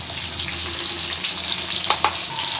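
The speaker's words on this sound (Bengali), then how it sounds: "আলুটাকে ভালো করে ভেজে নেব" Potato pieces seasoned with salt and turmeric fry in oil with a steady, close sizzle, and a brief stir or clatter cuts in near the end.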